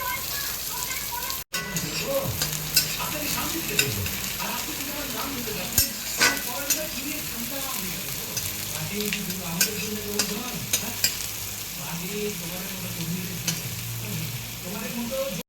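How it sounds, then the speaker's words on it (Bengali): Chili and onion sizzle in a hot pan while being stirred, with a continuous fry broken by regular scraping and clacking from the utensil and a short cut near the start. "গরম হয়ে গেছে, লঙ্কা আর পেঁয়াজটা দিয়ে দিচ্ছি। পেঁয়াজটা বেশি ভাজবো না, হালকা করে কাঁচা কাঁচা থাকতে নাড়িয়ে নেব।"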